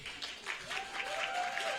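Faint, distant applause and cheering from a live concert audience at a Jewish girls' event, steady clapping wash with a held tone running through it.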